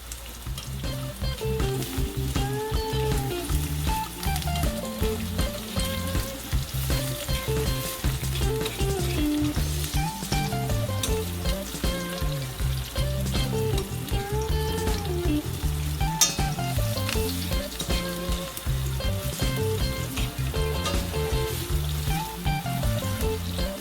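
Ingredients for kimchi rice fry in a pan with a steady, even sizzle that runs the whole time beneath continuous background music.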